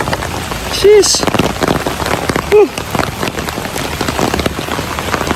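Heavy rain pouring steadily onto surfaces outdoors near a house, loud and close throughout, with people talking over it.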